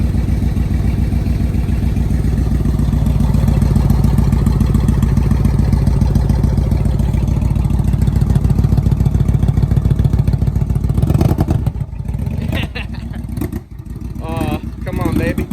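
A motorcycle engine cold starts and settles into a loud, rapid, steady idle up close, then falters and sputters near the end while people talk over it.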